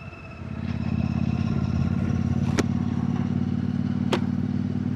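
A motorcycle rolls past on a town road in Druskininkai, its engine a steady, droning hum that swells in and holds at a fairly loud level, with a couple of sharp clicks over it.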